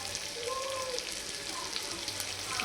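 Bitter gourd (karela) fries in a pan with a steady, close sizzling hiss that holds evenly throughout, with faint background sounds.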